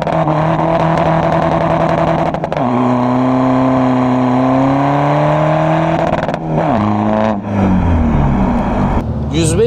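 A modified 250 HP 2011 VW Golf Mk6 with a 1.6 TDI diesel engine is revved close up, its loud engine note climbing, holding and dropping through several throttle blips.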